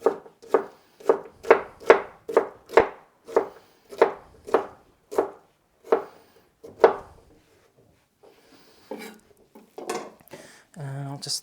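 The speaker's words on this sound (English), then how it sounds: "cut those into really long sticks. And then cut them into fine cubes" A knife chops onion into fine cubes on a wooden board in a brisk, even run of about a dozen close, crisp strikes, then pauses before some softer scraping and handling noises.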